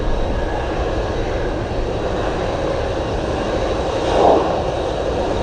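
Cargo jet engines idle at Anchorage airport on runway 15 in gusty winds, making a steady, loud, broadband roar that holds even throughout, with a brief swell near the end.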